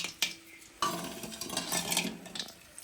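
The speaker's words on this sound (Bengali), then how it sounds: "সব কিছুকে একটু মিশিয়ে নিতে হবে" A spoon clinks and scrapes in a pot of milk mixed with cardamom, sugar and batasa, giving a few sharp taps among quieter stirring swishes, close by and fairly soft.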